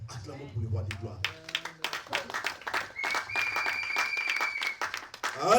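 A church congregation bursts into applause during a Holy Communion service, with dense rapid clapping building after a spoken voice and continuing under tonal singing or music, swelling louder toward the end.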